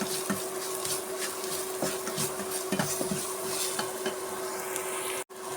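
Brinjal sautéing with chilli powder, turmeric and salt in a pan for a Kerala mezhukkupuratti, giving a steady close sizzle broken by light scraping and stirring clinks throughout, with no talking.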